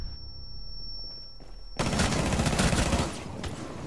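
A PS4 shooter game goes from a quiet stretch into loud, sustained gunfire. Rapid shots fire close together for about two seconds and keep going at the end.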